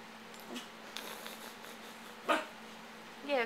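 A dog gives a few faint, short barks and yips over a quiet indoor background, spaced apart with one sharper bark near the end.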